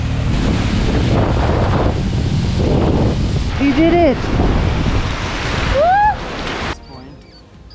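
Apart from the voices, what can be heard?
raging river in Spiti Valley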